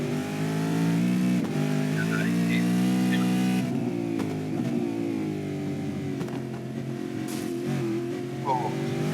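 Supercars race cars roar past on a New Zealand circuit during a 2021 championship race, their engines droning loud and sustained with shifting pitch, under excited commentary.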